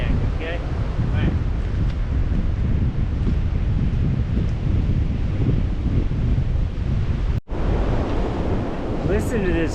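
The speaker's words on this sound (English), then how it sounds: "Listen to this wind." Strong wind whips over a mountain ridge in the Slickrock and Citico Wilderness, a loud continuous roar buffeting the microphone, broken by a brief dropout near the end.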